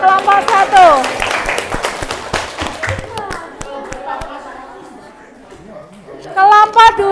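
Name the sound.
classroom applause for group 1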